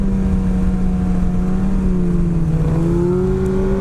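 Sport bike engine held at steady high revs during a wheelie, a loud continuous drone with the pitch sagging slightly and then climbing, no talk.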